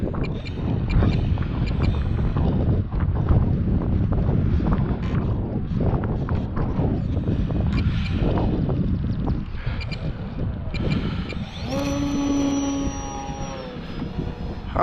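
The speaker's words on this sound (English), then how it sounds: "Plenty windy." Strong wind roars steadily over a model FPV airplane flying in high wind, loud and continuous throughout, with a thin motor whine rising briefly near the end.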